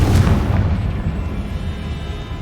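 A Confringo fire spell bursts in the Hogwarts Legacy video game: one loud, deep boom at the start that trails off into a low, rumbling tail, with no talking.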